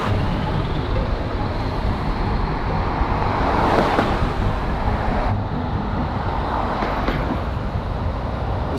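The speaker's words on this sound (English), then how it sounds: "The heavy traffic takes away from it a little bit." Dense, loud roadway traffic rumbles steadily near a bridge above a Washington beach, cars and trucks passing in a continuous wash with occasional swells, while voices murmur faintly underneath.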